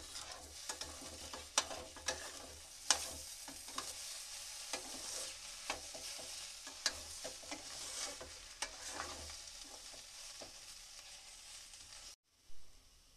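Potato paneer masala being stirred in a pan, with cubed paneer folded in: steady scraping and clacking of a spoon against the pan over a soft frying sizzle, with sharp clicks at irregular intervals, close and moderately loud, no talking.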